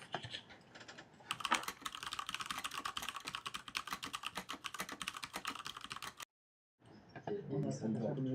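Mechanical keyboard typing played from a soundboard: rapid, dense clatter of keystrokes for several seconds, a short silence, then a voice talking.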